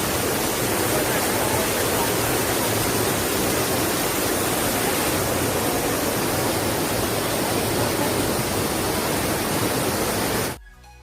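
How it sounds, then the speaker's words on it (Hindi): Rock Garden waterfall in Darjeeling, a steady, loud, broadband rush of falling water heard close, continuous without change until it cuts off abruptly near the end. "रॉक गार्डन सुंदर वाटरफॉल से घिरा हुआ है।"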